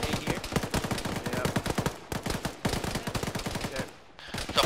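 Dense automatic and rifle gunfire in a ShackTac military video game firefight, rapid bursts hammering almost nonstop at close range with only brief pauses.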